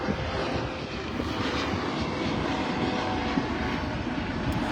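A loud, continuous engine roar from a large helicopter flying overhead, dense and rumbling, steady throughout with no talking.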